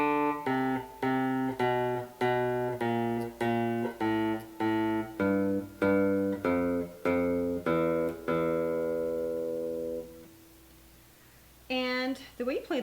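Guitar plays the intro riff of a song, a run of evenly spaced, plucked, descending notes with a bass line, up close and alone, then ringing out before a brief strum at the end.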